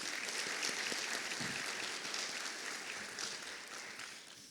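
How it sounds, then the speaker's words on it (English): An audience at a college academic awards ceremony applauds with a steady wash of many hands clapping, heard from some distance and fairly soft, slowly fading toward the end. "Please give a round of applause for our trustees."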